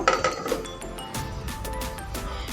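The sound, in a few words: covering the biscuit pan with its lid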